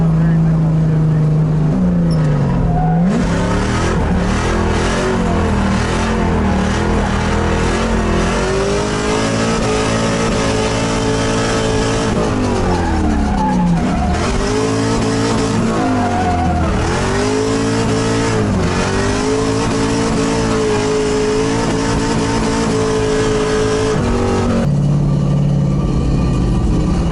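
A drift car on a lap of Harris Hill, its shifter bushing worn out, revs hard and close, the engine pitch climbing and falling again and again without a break.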